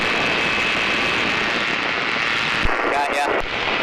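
A nearby ultralight aircraft, flown alongside a Kolb Firefly ultralight, drones steadily at close range with a constant engine hum, and a brief rattling sound near the end.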